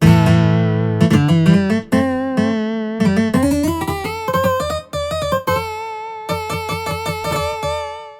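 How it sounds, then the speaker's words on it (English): Synth-like guitar licks played through a MIDI guitar software plugin, with bending, sliding notes and quick runs, played alone, clear and fairly loud throughout. "Here is a live playthrough of a few guitar licks played through a guitar plugin with this."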